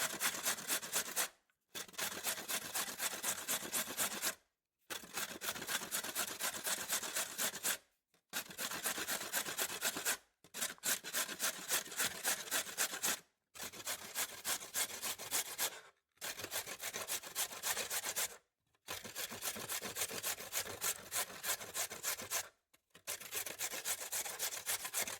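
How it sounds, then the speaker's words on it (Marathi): Indian gooseberries (amla) rubbed against a kitchen grater for homemade pickle, a steady rasping scrape in long bursts of rapid strokes, separated by short silent pauses, close and loud with no talking. "आता आपण आवळे चांगल्या प्रकारे किसून घेऊ."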